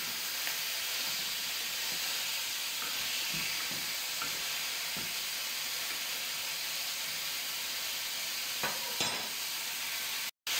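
Pork fillet searing in a hot pan gives a steady, quiet sizzle and hiss with a few faint scrapes of a spatula or spoon, ending in a brief dropout.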